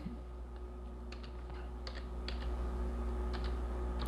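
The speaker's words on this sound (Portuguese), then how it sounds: "Vou digitar a senha aqui." A password is typed on a computer keyboard as a handful of quiet, irregular key clicks close by, set over a low steady hum with no speech.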